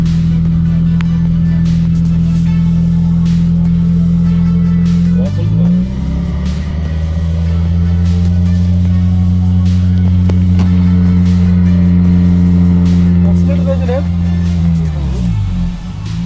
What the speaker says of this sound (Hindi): अब हम इसके जो TRD का इसका जो बिल्ट इन ड्यूल एग्जॉस्ट है, अब उसका हम आपको साउंड टेस्ट